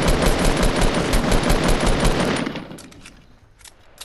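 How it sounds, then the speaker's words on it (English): Rapid, dense automatic gunfire from a shooter video game rattles loudly and continuously for over two seconds, then fades into scattered, more distant shots. "Shots over to our right."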